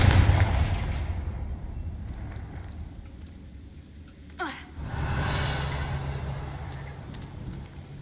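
A blasting spell cast in Hogwarts Legacy erupts with a loud burst at the start, then after a lull a sharp whooshing streak cuts through, followed by a sustained rumbling swell of game ambience.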